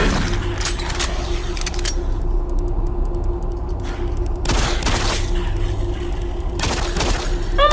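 Gunfire from the Doom 3 first-person shooter comes as several loud bursts of shots with short gaps between them, close and harsh over a low game rumble.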